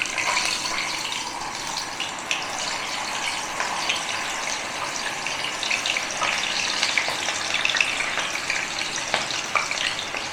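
Butterfly chicken pieces fry in hot oil with a dense, steady crackling sizzle that runs the whole way through at close range, and no voices break in.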